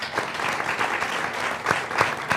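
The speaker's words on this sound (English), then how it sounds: "That deserves a round of applause." An audience at a South Texas town hall claps steadily in a dense, sustained round of applause with a few sharper claps standing out, and no voices over it.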